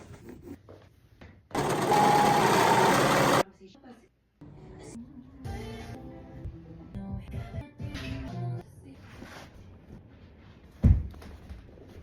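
A sewing machine stitching fabric runs in one loud, steady burst of about two seconds, followed by quieter handling noises, thumps and a voice talking.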